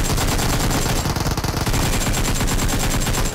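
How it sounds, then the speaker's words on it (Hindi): Rapid automatic gunfire bursts crackle continuously and loudly in a mobile battle royale shooter game, dense and fast with no voices. "मैं इस पर फायर रखता हूँ"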